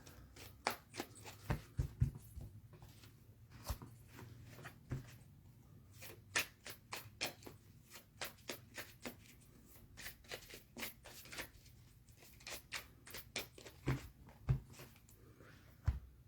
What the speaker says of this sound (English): So I'm just going to shuffle this decks up that I've used and thank the cards.